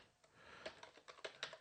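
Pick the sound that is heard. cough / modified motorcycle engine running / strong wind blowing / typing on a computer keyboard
typing on a computer keyboard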